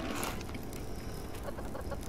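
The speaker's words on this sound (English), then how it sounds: "Let me check the chickens right quick." Chickens cluck faintly in the survival video game Subsistence, a soft scattered clucking over a steady background hiss with no talk.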